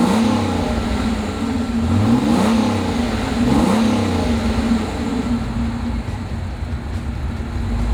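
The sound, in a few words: sports car engine growling while driving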